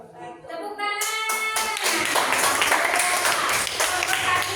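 A classroom full of people bursts into applause, with dense, loud hand clapping that holds steady to the end after a brief bit of talk at the start.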